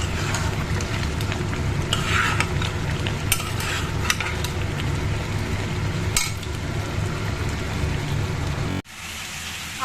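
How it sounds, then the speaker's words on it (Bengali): Potatoes fry in a pan with a steady, dense sizzle and crackle, occasional brighter spits and stirring scrapes, close and continuous until it cuts off sharply near the end. "ফ্রাই চলছে"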